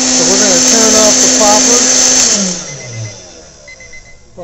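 A hot-air popcorn popper roasting coffee beans gives a loud, steady whirring fan roar that cuts off abruptly about halfway through, leaving a quieter room where a person talks.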